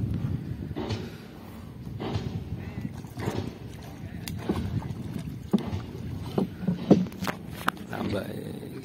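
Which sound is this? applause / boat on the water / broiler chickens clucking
boat on the water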